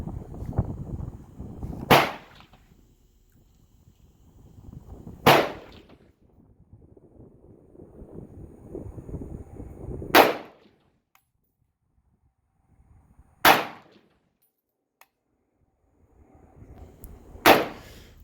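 Five sharp, loud rifle shots from a Zastava PAP M90 AK-pattern rifle in 5.56 with a JMac muzzle brake, spaced a few seconds apart outdoors, each crack trailing into a short echo, with no one speaking.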